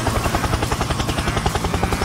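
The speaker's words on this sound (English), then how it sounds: "Helicopter, helicopter!" A helicopter item in the KartRider Drift video game chops with fast, even rotor pulses, loud and close, without talk over it.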